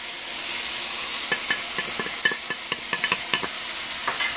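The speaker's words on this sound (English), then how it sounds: "take the noodles and dump them in and then stir them up" Maggi noodles with onions and spices being stirred in a hot pan, a steady sizzle under scattered scraping clicks of the utensil against the pan, close and fairly loud.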